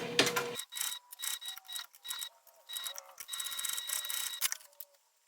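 A sewing machine back stitches on a Consuela clutch in short start-stop bursts, whirring in quick runs separated by brief pauses, close and clear.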